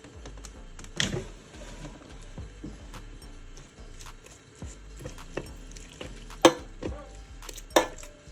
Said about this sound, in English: So you just want to stir up your noodles.